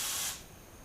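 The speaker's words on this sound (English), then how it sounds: "let's mix it up and start spraying" Spray gun spraying car paint on a Nissan V35 Skyline body panel, a short close hiss of atomized spray that cuts off after a fraction of a second, leaving faint background noise.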